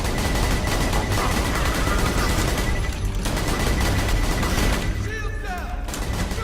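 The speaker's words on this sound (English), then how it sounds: "Shoot the injector." Dense, continuous gunfire and explosions from the video game Borderlands 2 play during a speedrun marathon, loud and unbroken throughout.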